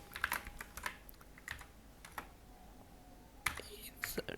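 Quiet, uneven bursts of keystrokes on a computer keyboard, clustered in short runs with pauses between, soft and close, with a faint hum underneath.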